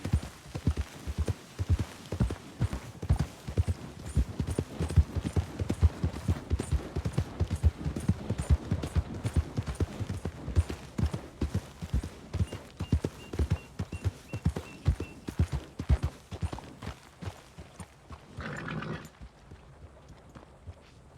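Horse hooves clip-clop steadily on ground in the Red Dead Redemption 2 video game, a continuous walking rhythm up close with a brief snort near the end.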